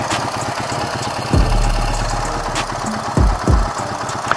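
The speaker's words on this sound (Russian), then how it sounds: "Послушайте, как работает мотоцикл." A Ural motorcycle engine with a worn left cylinder and piston runs loud and close, chugging with a knocking beat, with a few sharp low thumps and clanks.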